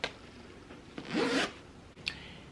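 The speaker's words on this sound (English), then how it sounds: "this cover does have a zipper." Zipper on a down pillow cover pulled in a short rasping zip lasting about half a second, bracketed by soft fabric rubbing and a couple of light clicks, close and fairly quiet.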